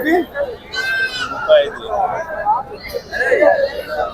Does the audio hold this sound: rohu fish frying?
no